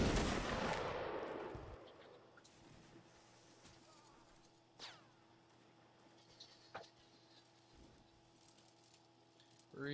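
Musket volley from Napoleonic reenactment line infantry of the 27th Inniskilling: a loud rolling blast that decays over a second or two, followed by scattered faint distant reports and pops over a steady background hum.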